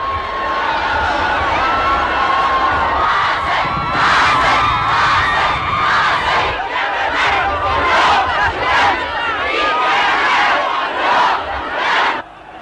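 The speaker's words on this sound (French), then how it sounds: "La foule maintenant n'est qu'un immense délire que rien ne peut endiguer." A huge, frenzied crowd at President Gamal Abdel Nasser's funeral in 1970 roars, chants and shouts continuously. The loud surging mass of voices rises and falls in waves.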